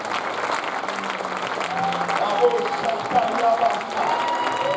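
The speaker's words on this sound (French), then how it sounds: "Acclamons le Seigneur encore une fois" A church congregation applauds and cheers in praise during a worship service, with steady, dense clapping filling the room while a voice sings or calls out over it.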